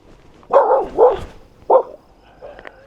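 A dog barking at night at a remote roadside camp in Peru, three loud close barks in quick succession followed by a softer fourth, with quiet between them.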